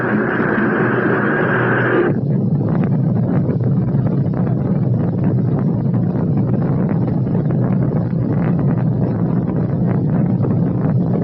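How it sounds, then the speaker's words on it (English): Rocket main engines ignite at launch, a brief tonal start giving way to a loud, sustained, rough roar that holds steady with no voices. "We've gone for main engine start."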